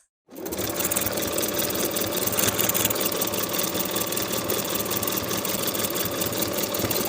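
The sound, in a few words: sewing machine stitching a fleece neckband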